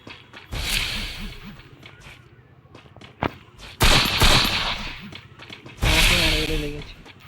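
Video game gunfire rattles out in several loud, rapid volleys separated by quieter stretches of game noise, each burst sharp and close.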